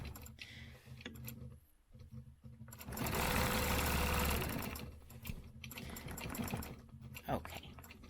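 A sewing machine stitches a quarter-inch quilting line along a stencilled diamond, a steady whirring run that swells louder midway, with someone talking around it.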